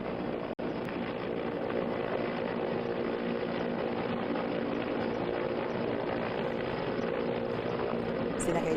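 Indian Air Force helicopter hovering over a river rescue near a dam in Jammu, a steady, loud, dense rotor and engine roar filling the whole stretch with no break.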